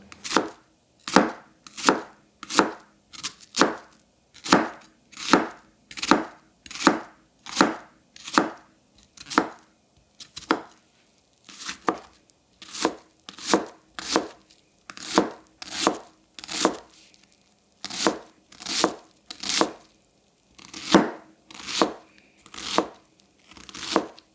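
Steady, evenly spaced knife chops through an onion with a WynterForge Wolfram Ko Bunka, a crisp board strike on each cut, close and clear with no talking, pausing briefly now and then.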